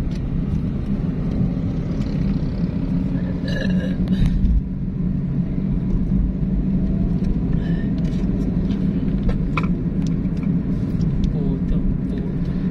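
Car traffic on a road near Robinson Place in Calasiao, Pangasinan, Philippines, a loud continuous engine rumble heard from inside a vehicle, with voices talking over it.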